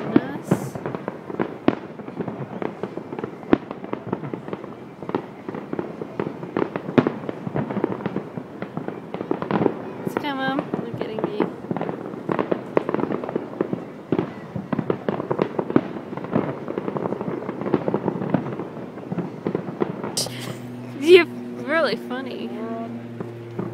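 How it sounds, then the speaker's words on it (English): Fireworks burst over rooftops in rapid, crackling succession, dense popping and booms filling the scene, with people talking throughout and a brief tonal sound near the end. "Even more fireworks came up."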